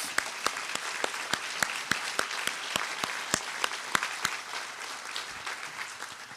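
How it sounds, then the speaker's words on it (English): An audience at a Hall of Fame induction ceremony claps, sharp individual claps in a fairly regular rhythm standing out over a sparser round of applause, gradually thinning toward the end. "Let's give these honorees another round of applause."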